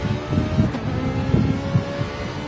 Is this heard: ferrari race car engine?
yes